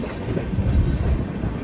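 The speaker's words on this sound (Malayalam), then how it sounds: "ട്രെയിൻ ഇപ്പോൾ ബോൽപൂർ ശാന്തി നികേതൻ റെയിൽവേ സ്റ്റേഷനിലേക്ക് എത്തിക്കൊണ്ടിരിക്കുകയാണ്" The Aronai Express rolls into Bolpur Shantiniketan station, a loud, close, steady rumble of train wheels and carriages with faint clatter.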